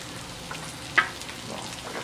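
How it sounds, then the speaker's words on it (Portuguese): Beans with adobo seasoning being stirred in a pan for feijão tropeiro, a soft steady sizzle with faint scraping strokes and one sharper clink of the spoon near the middle, close and fairly quiet with no talking. "E aqui nós vamos mexendo"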